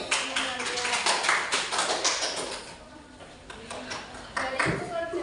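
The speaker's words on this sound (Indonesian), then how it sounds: "Beri tepuk tangan untuk semuanya." Brisk applause from a small group, many hands clapping in an uneven patter that swells and fades over a few seconds.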